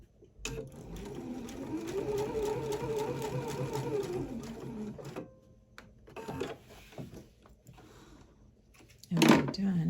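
Sewing machine running a long stitch on delicate fabric for a bralette, a steady whirring run of several seconds, then stopping to pivot before short bursts of stitching, with a clack near the end.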